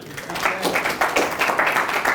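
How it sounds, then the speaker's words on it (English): A brief burst of clapping from a conference audience at a Triangle InfoSeCon session, uneven and moderately loud, with individual claps standing out over a short, lively round. "Give them a round of applause right quick"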